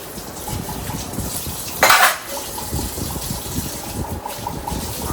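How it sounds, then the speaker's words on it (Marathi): Steel utensils clink and clatter as dishes are washed at a home sink, with a running-water splash and one louder clang in the middle, near and busy. "अजून बिचारी भांडी घासते."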